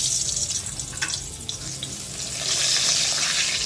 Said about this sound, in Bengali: তো এখন বেগুন ভাজাটা এখানে ভেজে নিচ্ছি।